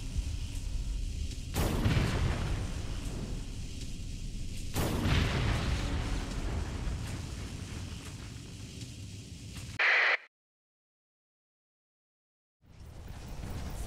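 The Z950 Flash superweapon from a Starsector game mod fires with two heavy, booming blasts over a loud, continuous roaring rumble. The sound cuts off abruptly into silence for a few seconds, then the roar returns.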